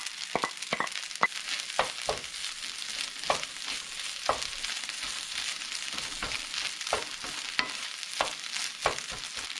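Vegetables stir-fried for fried rice, a steady close sizzle with frequent sharp scrapes and clacks of a spatula against the pan, fairly quiet and with no talking.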